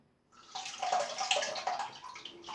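A shaving razor dipped and swished in a bowl of water during a wet shave with Rabid Banana soap, giving a close, continuous splashing and sloshing that swells after a brief quiet start.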